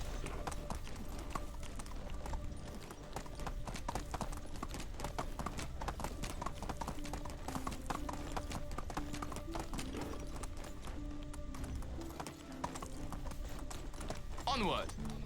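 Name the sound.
horse hooves galloping in video game Medieval Dynasty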